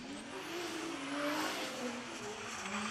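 A 400-horsepower RB25-engined drift car is thrown into a wide corner at a pro-am drift event, its engine wailing and shifting in pitch under hard throttle amid a broad, sustained roar of tire noise, steady and fairly distant.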